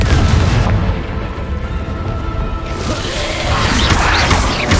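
Explosive Confringo spell blasts in Hogwarts Legacy, heavy booming impacts and crashing debris throughout, with a rough burst of crackling near the end and no talking.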